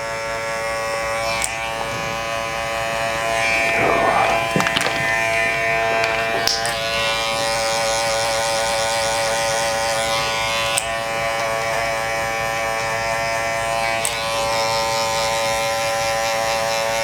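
Electric hair clippers buzz steadily and close up as they cut hair over a comb in a barber's skin fade, with brief scraping passes and clicks breaking the constant hum.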